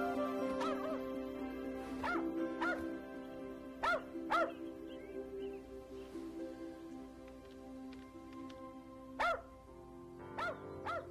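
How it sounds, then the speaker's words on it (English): Dog barking in a backyard, several short sharp barks at irregular intervals heard at a moderate distance over a steady background hum, with no talking. "It sounds like a dog's barking in the backyard."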